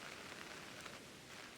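Steady rain falls in a Pokémon video game, a constant soft hiss of drops on a surface that stays faint and even throughout, with no voices.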